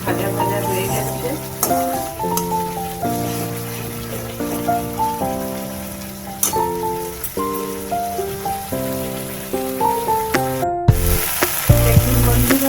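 Spice masala for bhindi masala fries in oil with a continuous sizzling hiss and stirring clicks, mostly under prominent background music that cuts out briefly near the end.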